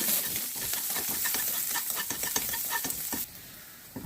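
Mustard seeds crackle and pop while frying in hot oil for a tempering for chena curry, close and busy with sharp bursts over a soft sizzle that tapers off toward the end.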